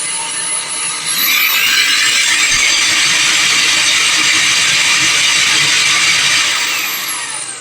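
An Arnica Solara ET13451 cordless stick vacuum motor spins up and whirs loudly and steadily, then its pitch sags and it winds down as the weak battery runs out.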